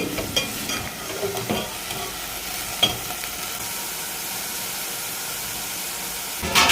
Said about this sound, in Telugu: నీట్గా మూడు నాలుగు సార్లు కడుక్కున్న తర్వాత ఇలా ఆయిల్లో ఫ్రై చేసుకోవాలి